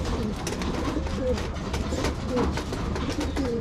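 Racing pigeons coo steadily in a loft while being fed, a dense flock murmur of soft repeated coos with background rustle throughout.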